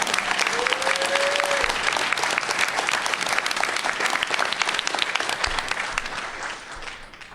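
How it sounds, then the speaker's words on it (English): An audience claps loudly at a voice actor panel during a fan convention, with dense sustained applause, a brief whistle or cheer early on, and the clapping slowly tapering off toward the end. "So a big round of applause for Alex Atley."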